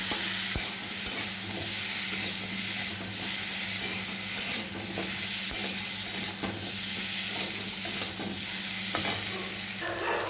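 Spices being stirred as they fry in a pan for a prawn and taro curry with chilli and ground pepper: a steady, close sizzle with soft scraping strokes of the spoon throughout, no talking.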